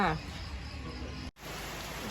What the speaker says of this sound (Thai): ฝนตกพอดีจ้ะ